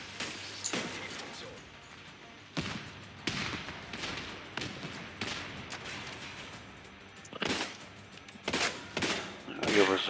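Pistol shots ring out in a video game, scattered sharp cracks coming singly and in quick pairs amid quieter background sound over several seconds.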